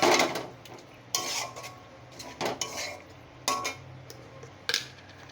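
Chicken with curd is stirred and sautéed in a pan over low gas. Sharp metal spatula scrapes and clanks come in separate bursts against a quiet background, with no talk.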